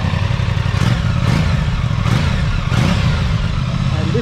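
Stock Aprilia RS660 motorcycle engine idling and revving, a loud, steady close-up rumble with several brief rising blips spaced roughly every second.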